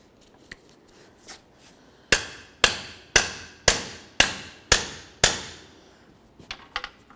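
Seven evenly spaced, sharp hammer blows on a front shock and spring assembly from a 2002-2009 GMC Envoy resting on wood, preceded by a few lighter taps and followed by small knocks.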